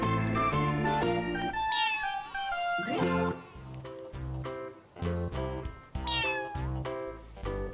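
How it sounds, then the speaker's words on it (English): A gray cat meows repeatedly in long, wavering, drawn-out calls over a steady background, near and fairly loud with no talking. "Here's a gray cat. She looks happy."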